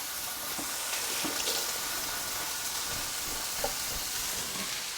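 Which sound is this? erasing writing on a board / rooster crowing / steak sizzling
steak sizzling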